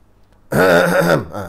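A single loud, close throat clearing by a male teacher during an Islamic lesson in Malay, a rough voiced rasp lasting about a second.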